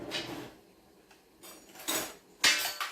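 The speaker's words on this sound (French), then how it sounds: "J'ai pris ma saladier. Regardez, je vais aller tout mélanger." A spoon stirs and scrapes through fava bean salad in a salad bowl, giving a few sharp clinks and clatters that grow louder toward the end, with no voices.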